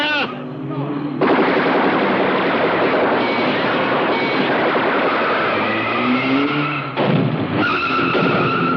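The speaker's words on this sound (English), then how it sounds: "Aim 10 yards ahead of them. Right, Sergeant. Fire straight at them." Soldiers fire straight at their targets in a loud, sustained burst of gunfire lasting most of the span, close and harsh, with a brief dip near the end before it resumes.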